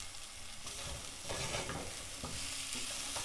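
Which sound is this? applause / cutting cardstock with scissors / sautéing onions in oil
sautéing onions in oil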